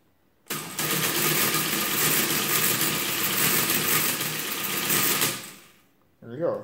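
A Friden ACG mechanical calculator runs a division, giving a loud sustained mechanical whirring and rapid clatter for about five seconds before winding down, followed by a brief voice.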